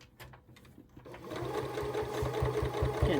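A sewing machine starts up and stitches through several layers of fabric, its needle thumping in a fast, steady rhythm that grows louder and continuous after a brief hesitant start.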